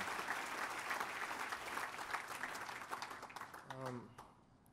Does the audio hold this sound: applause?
yes